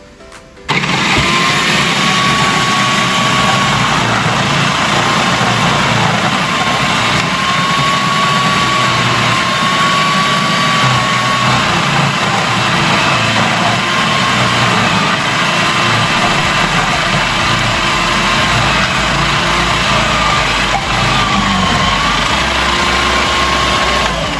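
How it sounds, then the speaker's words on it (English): A food processor grates potatoes for hash browns, its motor whirring loudly and steadily from an abrupt start through the whole stretch, with no talking. "I grate them either in the food processor or on a cheese grater, but I like to get it done faster in the food processor"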